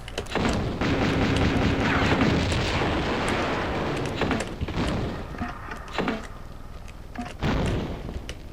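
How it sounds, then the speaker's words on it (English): Grenade launcher in the Tomb Raider 2 video game, heavy booming blasts rolling one into another, followed by several sharp thuds and impacts, loud and close. "this might be a good time to use the grenade launcher"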